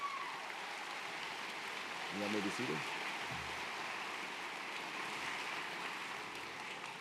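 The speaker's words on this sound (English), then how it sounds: "Please give them all a round of applause" A commencement audience in a large hall gives steady, rain-like applause that lasts throughout, with a brief spoken phrase partway through.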